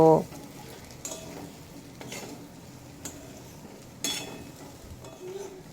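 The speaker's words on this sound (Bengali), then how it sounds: "এবার এর সাথে এড করে দেব আগে থেকে ভেজে রাখা আলু আর পেঁপে দিয়ে এই একই সাথে খুব ভালোভাবে কষিয়ে নেব" Pre-fried potatoes and papaya are stir-fried in a pan, with a soft background sizzle broken by several sharp spatula knocks and scrapes at irregular intervals.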